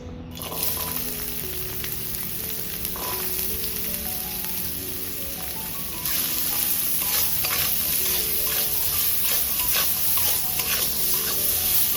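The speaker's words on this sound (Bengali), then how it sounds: "গাজরগুলো হালকা করে ভাজা হয়ে গেছে" Carrots and onion frying in white oil in a pan, with a steady loud sizzle and occasional stirring scrapes, growing louder partway through; no one talks.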